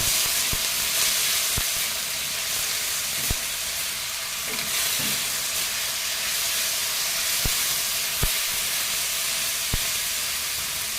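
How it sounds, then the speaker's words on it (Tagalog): Garlic, onion, tomato and ginger sauté in a pan with a steady, loud sizzle and hiss, broken by a few sharp utensil taps against the pan, with no one speaking. "ginigisa ko na yung bawang, sibuyas, kamatis, tsaka yung luya."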